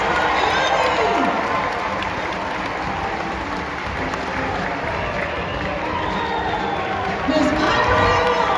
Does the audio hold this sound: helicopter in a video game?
no